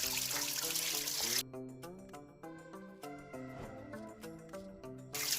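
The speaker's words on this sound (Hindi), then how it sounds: "और ये अंदर से ऐसे आता है पानी," Spring water trickles steadily from a village water source in Pauri Garhwal, a soft, close, continuous flow with small bubbling shifts and no talking.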